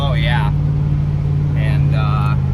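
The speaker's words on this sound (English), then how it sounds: "The exhaust sounds so much better." A 2002 Chevrolet Silverado 1500 2WD with a six-inch lift kit drones steadily and loudly through its exhaust while driving, a constant low engine hum under brief bits of speech.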